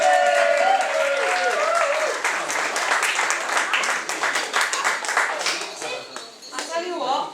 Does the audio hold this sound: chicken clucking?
no